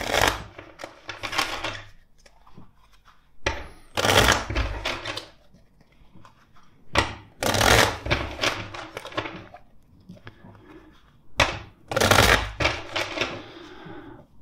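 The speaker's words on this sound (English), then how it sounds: "Let's shuffle the deck four times." A tarot deck is riffled and shuffled in several quick, loud bursts with pauses between, close by and with no talking.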